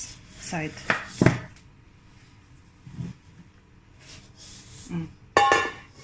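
Homemade bread being flipped over in a pan partway through baking, heard as a few scattered rubbing scrapes and clinks of cookware, with quiet gaps between the louder bumps.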